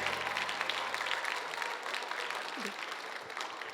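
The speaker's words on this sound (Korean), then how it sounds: "격려의 박수를 부탁드리겠습니다" Congregation at a church service for a homeschool academy's graduation and end-of-semester worship gives thanks-giving applause, a dense steady clapping that fades slightly as it continues, with a brief voice heard faintly under it.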